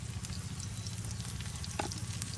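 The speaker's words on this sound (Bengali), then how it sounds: "প্রত্যেকটি বড়া ভাবি ধরে ধরে একবার তেলের সাথে দিয়ে দিয়ে একদম ভেজে নিচ্ছে দেখুন" Bora fritters deep-fry in hot oil in a village kitchen, a close, continuous crackling sizzle with a low bubbling undertone and occasional sharper pops, with no talking.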